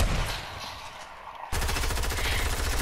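Rapid automatic gunfire in the Fortnite video game, a dense continuous burst that starts abruptly partway through after a quieter stretch of distant battle noise, loud and close.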